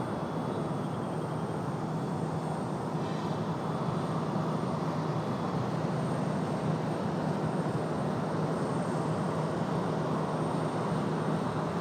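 An Airbus A319 airliner at Raleigh Durham airport gives off a steady, distant engine roar and broad rumble that holds constant throughout.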